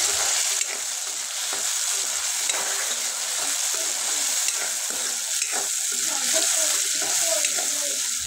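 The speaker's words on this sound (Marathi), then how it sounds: "आता यात टोमॅटो घालू। टोमॅटो पण चांगला परतून घ्यायचा इथं।" Chopped tomatoes being sautéed with golden onions over a low gas flame in a pan for a spicy potato curry, a soft steady sizzle with occasional stirring scrapes throughout.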